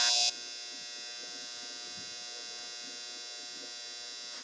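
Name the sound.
clothes dryer end-of-cycle buzzer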